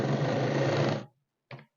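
An electric sewing machine stitches a saree's fabric lining for a lehenga. There is about a second of close, steady whirring run, a brief pause, then a short second burst.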